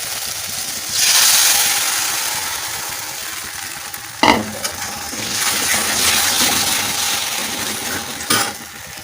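Finger millet batter poured into a hot wok sizzles with a steady hiss close by, broken by a couple of sharp metallic clinks from a utensil, with no talk.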